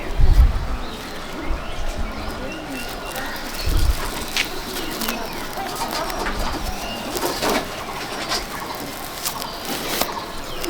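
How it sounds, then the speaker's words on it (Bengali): A female pigeon in a pigeon loft in Malda district coos softly amid steady background bustle and rustling, with a few low thumps near the start and later. "এই হচ্ছে ওর মাদি পায়রাটা।"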